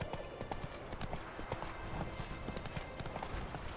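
Roach, the horse in The Witcher 3, clip-clops along in a quick, steady hoofbeat rhythm, close and clear, with faint background ambience.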